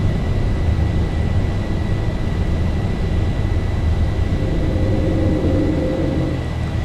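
Landing gear retracting on a Boeing 737-800 after takeoff in the X-Plane 11 simulator: a faint whining hum rises late in the clip beneath a loud, steady cabin and engine roar.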